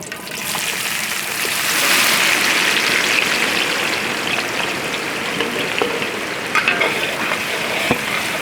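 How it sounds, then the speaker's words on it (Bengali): Chopped onion hitting hot oil with cinnamon, cardamom and cloves in a village kitchen, a loud, close, steady sizzle that swells after a moment, with faint stirring scrapes underneath. "এবার দিয়ে দেবো পেঁয়াজ কুচি।"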